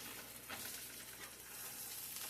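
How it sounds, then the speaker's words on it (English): Sausages sizzle and crackle steadily in a hot pan, a continuous close frying hiss with no talking. "our sausage is frying good"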